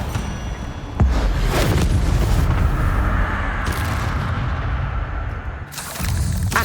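Incendio fire spells cast repeatedly in the video game Hogwarts Legacy, giving loud whooshing bursts with a low booming body, one sharp onset near the start and another burst near the end, with no talking.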